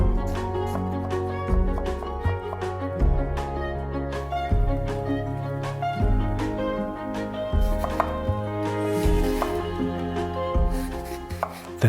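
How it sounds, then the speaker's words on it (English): A knife cuts an apple into thin matchsticks on a board, a steady series of crisp, close chops repeating at a brisk, even rhythm. "Thinly slice 1 apple into thin matchsticks."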